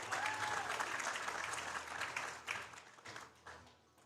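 An audience applauds a powerlifter at a state championship, steady dense clapping that fades toward the end, with faint crowd noise.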